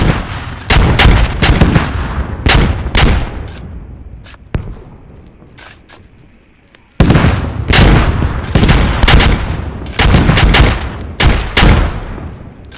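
Artillery from an enemy technical vehicle in the Squad 40 vs 40 shooter pounds in loud, close bursts of booming shots, with a brief lull midway before a fresh barrage resumes; no talking.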